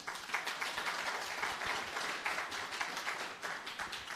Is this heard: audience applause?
yes